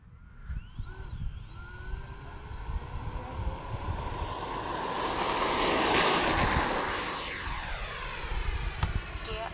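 An FMS Rafale 80mm ducted-fan RC jet accelerates and takes off, its rising whine climbing in pitch and building to a loud roaring peak before sweeping away overhead.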